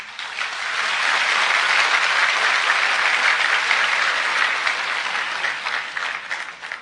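Audience clapping hands at a lecture: a broad wash of applause that builds quickly, holds steady and loud for several seconds, then tapers off.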